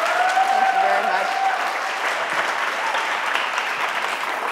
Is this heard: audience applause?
yes